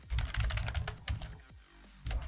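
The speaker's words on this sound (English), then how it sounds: "Sorry, I'm typing something," Quick keystrokes on a computer keyboard, close by, in a short flurry of clicks that pauses briefly and resumes, over a faint low background hum.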